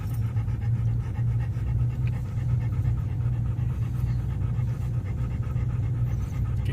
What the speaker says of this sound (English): You can hear Teal panting in the background here.